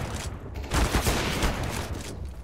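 Rapid bursts of gunfire from a competitive shooter video game, with dense overlapping shots and a sharper flurry in the middle, played loud with no speech.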